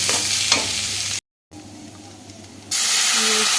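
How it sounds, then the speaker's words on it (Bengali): Meat, washed lentils and rice are stirred in a hot karahi for khichuri, hissing and sizzling loudly, then going quieter after a brief cut, and the sizzle flares up again sharply at the end as water goes in. "মাংসের সাথে ভালো করে এটাকে কড়াইতে নেড়ে চেড়ে নিয়ে পরিমাণ মতো জল দিয়ে দেবো"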